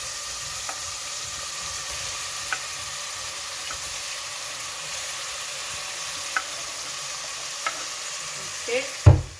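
Tomatoes frying in a pan, a steady soft sizzle with occasional light taps of a utensil stirring, close by, ending in a louder clatter.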